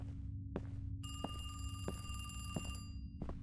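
An old telephone rings in the horror game The Devil's Route, its bell sounding in repeated long bursts over a low droning ambience, with dull footstep thuds between the rings.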